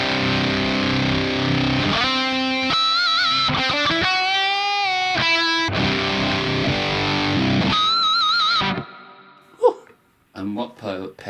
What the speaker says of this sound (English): let's dial back some distortion